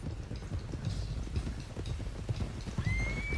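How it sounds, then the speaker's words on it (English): Horses in Red Dead Redemption 2 gallop with rapid, dense hoof clip-clop, and neighs cut through the rushing outdoor ambience at moderate loudness. "let's get these horses to Clemens Cove quick before we run into any more trouble"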